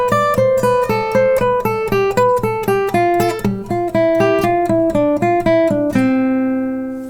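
Plucked guitar notes played with a thumbpick climb then descend a major scale one at a time, each attack crisp and bright, steady and moderately paced, ending on a ringing low note.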